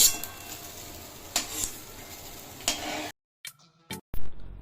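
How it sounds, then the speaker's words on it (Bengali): Rice frying in a pot for khichuri, a steady sizzle broken by sharp stirring scrapes, then cutting off into near silence with a few isolated knocks and clatters. "আমি গামলা বসিয়ে দিয়েছি, এখানে চালটা ভেজে নেব।"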